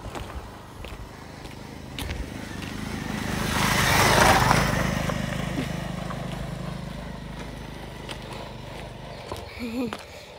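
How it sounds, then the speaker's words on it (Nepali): A motorcycle comes up from behind on an outdoor route near Dharan, its engine rumble swelling to a peak and then fading as it passes, with voices and footsteps nearby. "बाइक आउँदैछ पछाडिबाट"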